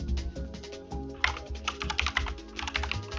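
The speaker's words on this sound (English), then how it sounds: "I got the silent keyboard." Typing on a quiet computer keyboard, soft rapid keystrokes in an uneven stream, close and muted, over a low background hum.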